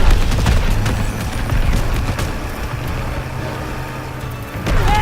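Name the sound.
gunfire shooting at the player in the video game Call of Duty WWII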